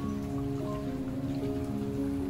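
Steady rain falls on a dark, cold, windy winter morning, a continuous even hiss with a low hum underneath and no voices.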